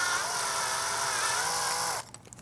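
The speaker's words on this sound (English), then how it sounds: "So this step bit is good for cutting holes in really thin material." A step drill bit cutting a hole in thin material, a high, steady whine held for about two seconds before it stops abruptly, leaving faint handling noises.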